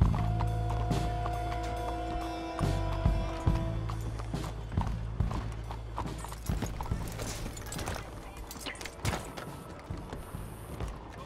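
Horse hooves clip-clop in Red Dead Redemption 2 as a rider arrives in the city of Saint Denis, a steady near rhythm of hoofbeats over game ambience and street noise, with no talk.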